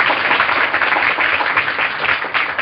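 A studio audience applauds the cast of a 1938 radio drama broadcast of The Shadow, a dense, steady wash of clapping from many hands that stays loud and even throughout.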